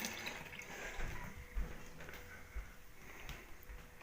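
Liquid from a no-rinse bottle cleaning solution, used on new beer bottles, is poured down a drain, giving a soft, uneven gurgle and splash that swells and fades over several seconds.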